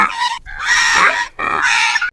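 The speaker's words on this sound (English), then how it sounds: "The pig says, "Oink, oink."" A farm pig grunts and squeals loudly nearby in three harsh, noisy bursts separated by short gaps.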